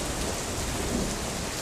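Steady, close rain pours through a Wyoming thunderstorm, with a low rumble of thunder swelling faintly underneath; no voices.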